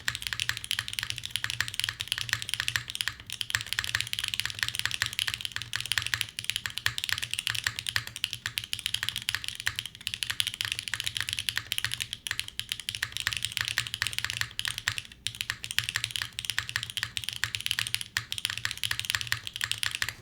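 A Fuji75 Proto mechanical keyboard is typed on steadily for a long stretch, dense rapid clacking keystrokes close up, with a low steady hum beneath and no talking.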